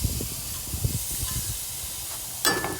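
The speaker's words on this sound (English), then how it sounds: "Can you hear that sizzle?" Steady hissing sizzle of tuna steaks searing on a hot grill, continuous and fairly close, with a brief louder burst of spitting near the end.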